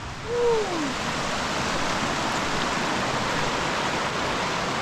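Steady broadband rush of creek water flowing along a backcountry bike route, constant and fairly close throughout, with a brief rising tonal squeak near the start.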